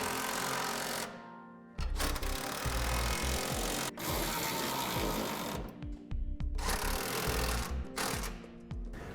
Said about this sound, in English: We go ahead and tighten down the rest of our hardware.